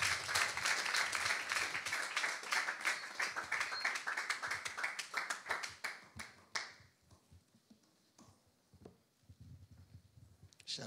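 Church congregation applauding, loud, dense clapping for about six seconds that thins into scattered claps and fades, with some voices mixed in.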